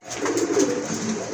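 Rajgolla pigeons, a sky-blue pair, cooing close by in a soft, continuous run of throaty coos with no voices.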